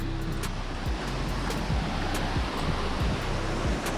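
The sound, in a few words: waterfall in Karnataka forest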